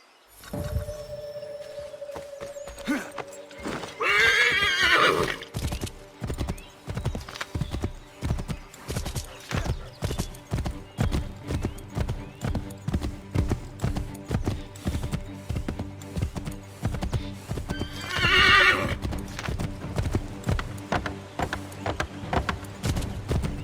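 Hooves clop in a fast, steady rhythm throughout, with a horse whinnying loudly twice over the galloping, in the video game Assassin's Creed 3 Remastered.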